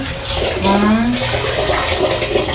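Labong (bamboo shoots) and saluyot leaves washed in water, a close, loud splashing and sloshing with a brief gurgle, continuous over a few seconds without speech.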